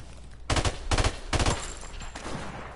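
Sniper rifle fire in a first-person shooter video game: three loud, sharp shots at roughly half-second intervals, each with a short echoing tail, then a quieter trailing report.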